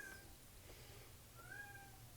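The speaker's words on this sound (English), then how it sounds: "I have no idea why my cat just started going ham again." A house cat gives a couple of faint meows, one short and one longer and rising, in a quiet indoor room during an electronics repair, with no talking.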